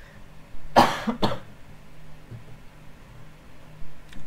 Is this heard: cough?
yes